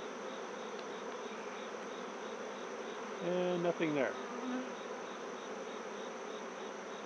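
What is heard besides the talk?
honey bees buzzing during a beehive inspection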